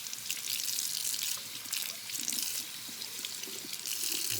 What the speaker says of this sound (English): Let's take it over one more time and wash it off.